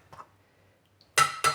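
Chicken pieces and koorka are dropped into a bowl, giving two quick clattering knocks close by after a near-silent pause.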